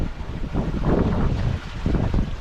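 Strong storm wind roaring across a sailboat at sea near the equator, a close, continuous gusting rush with low buffeting on the microphone.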